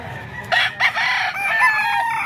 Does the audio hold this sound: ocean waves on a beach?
no